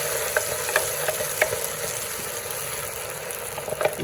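Green chili chutney sizzles and fries in a hot pan, a steady crackling hiss with a few sharp pops and stirring scrapes, close and fairly loud with no voices.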